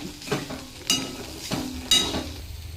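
Cooked bitter gourd vegetable being stirred in a pan, a few scraping strokes of a spatula against metal with a faint sizzle underneath, close and moderately loud.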